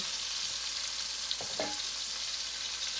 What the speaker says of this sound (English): Just let that cook and brown